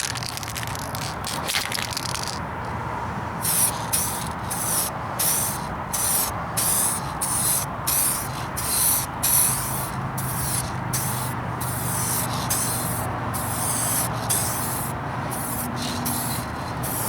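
Short, rhythmic hissing bursts of spray paint are applied to a vehicle's rocker panels, close up, repeating every half second or so over a steady background hiss with no talking.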